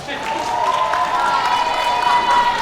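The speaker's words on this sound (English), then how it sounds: "Let's give another round of applause for the high school jazz band" Audience applause for a high school jazz band at a spring school concert: a dense, steady wash of clapping and crowd noise filling the hall for the whole stretch, with a faint sustained tone running underneath.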